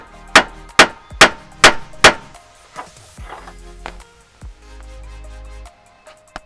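A hammer strikes the end of a bolt on a Land Cruiser 80 series front body chassis mount, five sharp metallic blows in a steady rhythm, then a few lighter taps and clunks.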